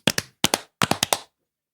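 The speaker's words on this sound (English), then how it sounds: "Let's do a full clap." A group claps together in short, sharp bursts, a pair of claps, then another pair, then a quick run of four, each crisp and close, followed by silence.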